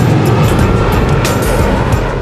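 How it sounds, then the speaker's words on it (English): Jet aircraft engine roaring at Kai Tak airport in Hong Kong, a loud, sustained broadband thunder close by and steady throughout, with no voices. "Hot jet engine, that's one way to dry your washing."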